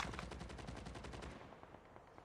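Rapid automatic gunfire from the video game Call of Duty Mobile, a fast continuous burst of shots that cuts off partway, quiet and steady in level.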